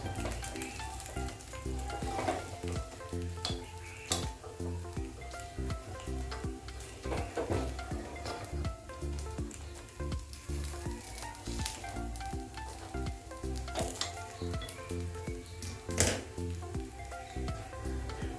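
A flatbread roasts on a hot pan, its gentle sizzle mixed with intermittent scraping, shuffling and light clinks of turning and pressing, held at a moderate level with no speech.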